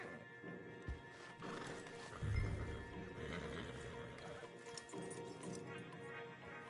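Video game stallions being led along, with a close horse whinny and snorts over clip-clopping hooves against a steady outdoor background.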